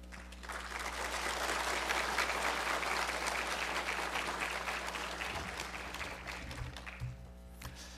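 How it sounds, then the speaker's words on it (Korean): A church congregation at a Wednesday worship service applauds to welcome a pastor, a steady sustained wave of clapping that swells and then gradually thins out over several seconds. "이 목사님 나오실 때 여러분 큰 박수로 환영해 주시기 바랍니다"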